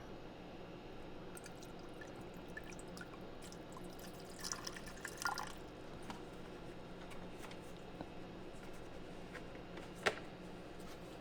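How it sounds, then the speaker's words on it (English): Distilled water trickles quietly into a glass beaker, with occasional small drips and a soft splash, faint against a hushed room. "Pour in some distilled water."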